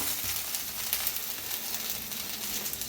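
Okra frying in a little leftover oil in a pan gives a steady, close hiss and crackle of sizzling that runs unbroken throughout, with no talking.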